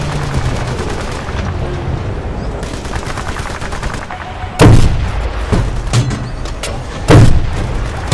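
Gunfire and explosions in the video game Battlefield: Bad Company 2, with steady rapid automatic fire throughout and two loud booming blasts partway through, all close and dense.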